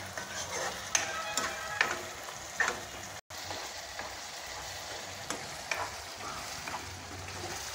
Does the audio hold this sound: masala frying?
yes